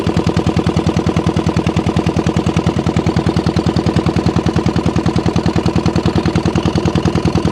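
A boat engine runs steadily on a river in the Sundarbans, its rapid, even chugging close and loud, continuing without a break.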